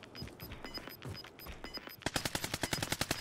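Rapid automatic gunfire in Call of Duty Warzone at Lumber Ravine, starting as scattered shots with a faint beeping tone, then breaking into a loud, steady burst of evenly spaced rounds close by.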